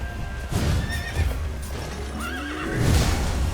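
A horse in the video game Sekiro clops and whinnies loudly and close by, with hoof thuds and a rising neigh set against the noise of combat.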